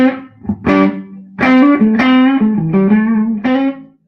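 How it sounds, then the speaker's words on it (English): Fender Custom Shop guitar amp played with natural overdriven breakup and a touch of reverb, loud close notes and sustained chords ringing out in a short phrase with no talking. "amp has some sweet breakup on its own"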